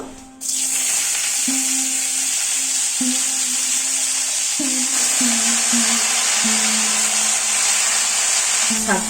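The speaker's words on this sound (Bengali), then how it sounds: "ঘিটা গরম হয়ে গেছে শাকটা দিয়ে দেবো" Loud, continuous sizzling of leafy greens frying in hot ghee, with a low hum underneath that shifts a few times.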